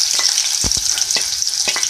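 Medium onions, sliced and dropped into hot oil for bhindi gravy, crackle loudly in a pan with a bright, dense sizzle and a few quick stirring knocks, close up with no talking.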